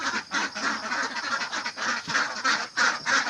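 Domestic ducks being let out, quacking in a dense, continuous chorus of overlapping calls with short pauses, fairly close and loud throughout.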